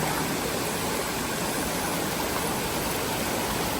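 Tsuen Wan waterfall stream in Hong Kong, a dense, steady roar of rushing water, loud and close, filling the scene without pause.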